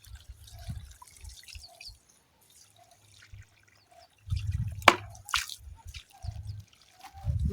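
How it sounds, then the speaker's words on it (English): Water is poured into a furrow in a garden seed bed, giving short drips and trickles near at hand, broken by quiet gaps, with a stronger splashing burst toward the end. "pouring the water into the farrow."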